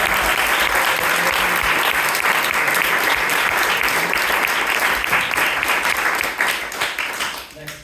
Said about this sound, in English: Another round of applause for Prabhupada.